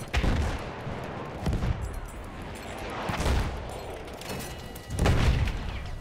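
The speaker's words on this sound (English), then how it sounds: "Why would people shoot at me?" Gunfire and booming impacts in the video game Battlefield 1 on a Rush map, a steady clatter of shots punctuated by several heavy thuds, dense and fairly loud with no talk.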